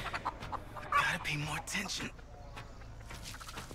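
Chicken clucks sound in The Texas Chain Saw Massacre horror video game, a few short bursts of clucking near the start amid quiet game ambience.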